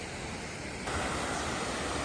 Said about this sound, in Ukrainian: спускаємось нижче подивитися водоспад